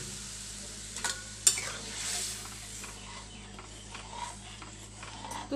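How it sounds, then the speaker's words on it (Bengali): Arhar dal poured into spices already fried with coriander powder sizzles softly in the pan while a spoon stirs and scrapes, with a few sharper clatters near the start. "দিয়ে ভালো করে ভেজে নেওয়ার পরে মশলাটাকে ডালটা ঢেলে দিলাম।"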